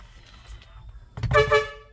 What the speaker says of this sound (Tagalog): ayun yung air horn